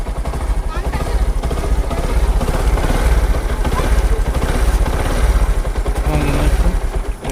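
A Bajaj Platina BS6 motorcycle engine runs loud and close, its low throbbing pulse revving steadily the whole time while someone talks over it.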